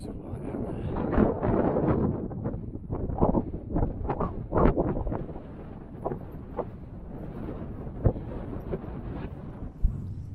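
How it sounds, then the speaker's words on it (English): Gusty wind on a hill walk at Blackstone Edge buffets the microphone in heavy, uneven low rumbles that swell and drop, strong blasts rising over a constant roar. "the wind has whipped up a storm. Very windy."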